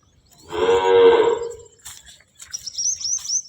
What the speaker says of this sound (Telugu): చూడండి ఫ్రెండ్స్, ఆవులు